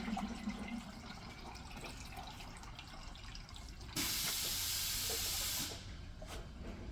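A Mr. Freeze Gen 3 methanol injection kit sprays through its big nozzle in a capacity test, a loud steady hiss that rises abruptly and holds for about two seconds before cutting back, over a constant rushing background.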